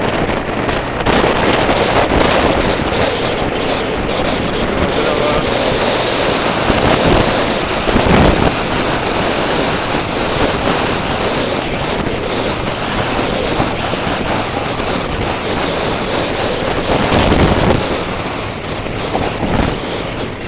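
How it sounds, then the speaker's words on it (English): Wind and rain buffet an outdoor winter golf course, a loud continuous rushing roar of wind noise on the microphone with occasional stronger gusts and no talk. "Back into the rain and the wind."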